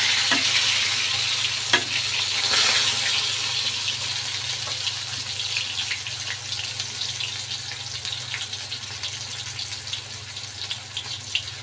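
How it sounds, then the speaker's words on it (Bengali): A whole fish fries in a pan with a steady, close hiss and crackle that goes on throughout, with a few sharper pops near the start. "মাছ গোটা খাওয়ার জন্য ভাজি করে নিতেছি।"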